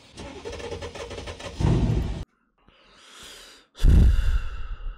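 A Mercedes CLS 63 AMG with a 6.3-litre engine cranks and fires up close by, a burst of loud engine roar followed by a pause, a brief whirring, then a second loud start surge that settles into a rumble.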